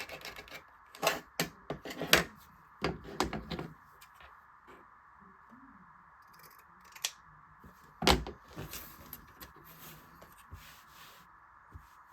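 A rotary cutter and sewing scissors cut through fabric on a cutting mat, giving scattered crisp snips and crunchy cutting strokes in short bursts separated by quiet pauses.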